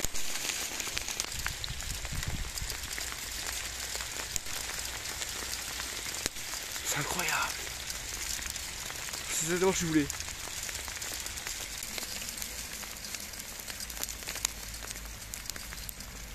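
Dense, constant pattering of a heavy hailstorm on surfaces and grass in Moselle, France, fills the clip, with a few brief spoken words over it.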